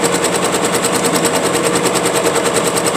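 A sewing machine stitches a quilt, its rapid, even mechanical chatter running loud and close without pause.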